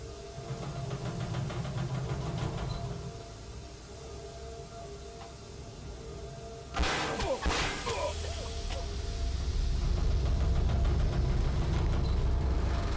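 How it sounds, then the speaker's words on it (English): Steam vents in the video game Amnesia: A Machine for Pigs hiss suddenly and loudly partway through, over a low machinery rumble that swells toward the end. No speech. "the blasts of boiling steam"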